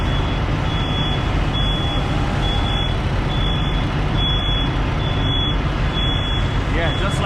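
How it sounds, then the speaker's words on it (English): A truck with a trailer reverses under a steady loud diesel rumble, its backup alarm sounding a regular series of about eight evenly spaced high beeps, while a voice speaks over the engine noise. "Just watch the trailer as you back up."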